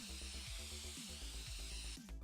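Spraying in the video game Drug Dealer Simulator: a steady, faint hiss running throughout over a repeating mechanical whirring pattern, with no voices.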